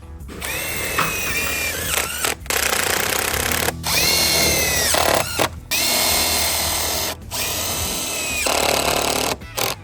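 A power drill drives screws into the hinges of a vinyl fence gate, whirring in several loud bursts with brief pauses between them.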